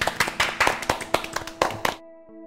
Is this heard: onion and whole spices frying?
no